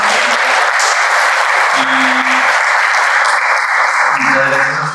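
Audience applause at a talk on Frankenstein and AI, thanking two guests: steady, dense clapping from a crowd that holds loud and even for the full span, with voices faintly underneath.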